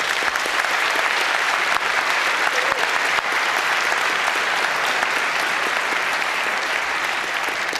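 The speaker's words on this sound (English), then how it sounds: "Please give a very warm applause to our speakers." A large audience at a conference talk on EU data protection reform gives sustained, dense applause for the speakers, a loud continuous wash of clapping with occasional sharper claps.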